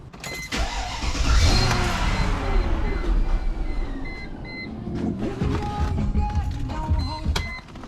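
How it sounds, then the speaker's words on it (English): A Mercedes ML55 engine cranks and starts after water pump work, with a rising whine and a steady rumbling idle. Faint squeals or chirps come through later, close and loud, with no talk. "So now we're gonna start the car"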